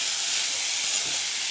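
Tomatoes fry in hot oil while being stirred for Goan daal, producing a steady, bright hiss of sizzling that fills the brief moment without any talking.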